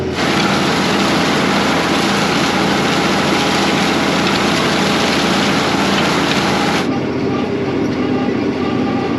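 A tractor engine pulling a disc across a wheat field gives a loud, constant rumbling drone with clattering implement noise, running steadily throughout and easing slightly near the end.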